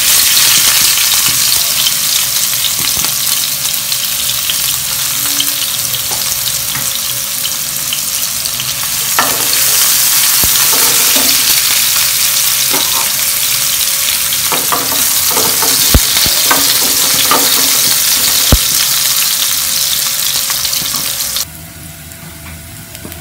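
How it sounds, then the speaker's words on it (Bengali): Onions sizzle and crackle steadily in hot fish oil left in a pan after frying pabda fish, with a loud, continuous hiss and occasional sharper pops and spatters, no voices. "এখন এই মাছের তেলে আমি পেঁয়াজ দিয়ে দিব"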